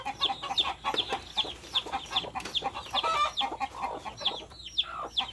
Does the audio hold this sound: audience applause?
no